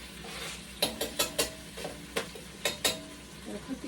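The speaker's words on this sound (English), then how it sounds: "I hear our butter sizzling over here." Chicken sizzling in butter in a pan, a soft continuous fry under a run of sharp, close utensil knocks and scrapes against the pan, roughly a dozen spaced irregularly.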